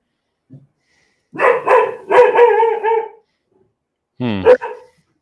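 A pup barks indoors: one faint yip, then a run of three or four loud, close barks, a pause, and a final pair of sharp barks, with no talk over them.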